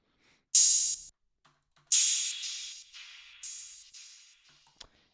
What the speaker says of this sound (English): And the open hats would sound like this without any effects.